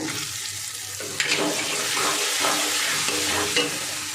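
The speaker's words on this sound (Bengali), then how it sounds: "সামান্য একটু জল দেব, দিয়ে মশলাটা ভালো করে কষাবো।" Masala of chopped tomato, coriander-cumin powder and spices cooking in a pan for a potato and paneer curry, giving a steady close sizzle with scraping stirring strokes and a few brief louder bumps, no talk.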